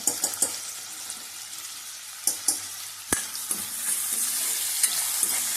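Onions fry in a pan for a Konkan-style green pea curry, with a steady sizzle throughout and occasional clinks and scrapes as they are stirred, close and unaccompanied by voices.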